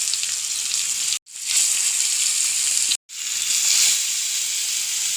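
Pieces of arakka fish sizzle loudly in hot oil in a clay pot, a steady bright hiss broken by two brief silent cuts, then resuming.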